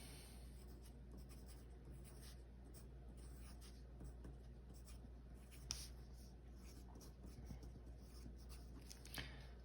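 Colored pencil strokes scratching across paper, a soft steady close-up rasp of repeated short strokes in the same direction, faint and continuous over a low background hum.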